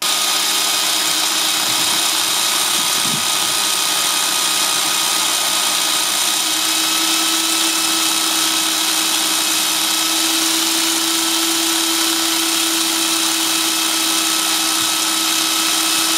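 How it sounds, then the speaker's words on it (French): A small file grinding a groove into a spinning catfish rod handle on a lathe, a steady loud whirring drone with a faint scraping tone that persists unbroken throughout. "je me sers d'une toute petite lime ici, voilà, que je vais venir appliquer comme ça dessus pendant que ça tourne"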